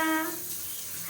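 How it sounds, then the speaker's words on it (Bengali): Water streaming from a shower at home, a steady close hiss that starts with a brief tonal squeal and then runs evenly. "আর এখন ঝর্ণাতে গোসল করে"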